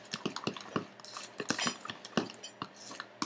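Avocado deep hair treatment being stirred in a bowl, with a rapid run of close clinks and scrapes from a utensil against the dish, steady and busy throughout with no voices.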